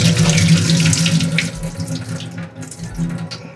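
Tap water runs steadily into a sink while mackerel is rinsed for a marinade, a close, loud splashing flow with slight shifts in tone as the fish moves under the stream.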